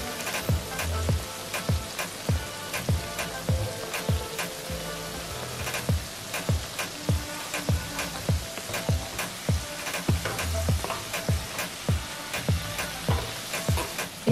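Corn and spinach fritters fry in a pan of oil with a constant sizzle, while a spatula flips them with regular, close scraping taps that keep an even beat.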